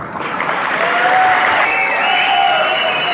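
A live audience claps loudly and continuously for about three seconds, a dense, even wash of many hands.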